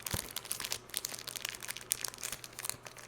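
A Nestle Lion chocolate bar's plastic wrapper crinkles and crackles as it is torn open by hand, close and continuous with irregular sharp rustles.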